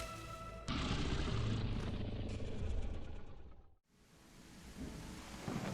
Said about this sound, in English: He awakens the next day in a thunderous storm